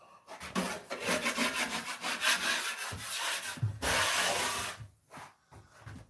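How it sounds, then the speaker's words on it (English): A tool scrapes excess material off a taped surface in steady rasping strokes, close and fairly loud, ending with a brief lull and a few lighter scrapes. "you just go around, scrape off any excess"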